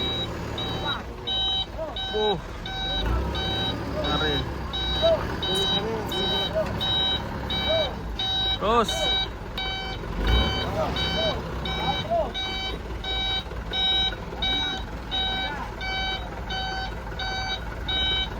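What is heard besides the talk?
cattle truck reversing beeps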